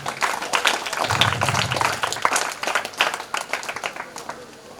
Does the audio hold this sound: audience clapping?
yes